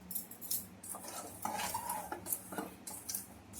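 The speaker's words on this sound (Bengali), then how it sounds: "ডিমগুলোর মধ্যে নুন দিয়ে নেবো, নিয়ে ওর মধ্যে একটু হলুদ দিয়ে দেবো" Boiled eggs being mixed with salt and turmeric in a bowl, a spoon scraping and clinking in an irregular rhythm, close and fairly quiet, with no talking.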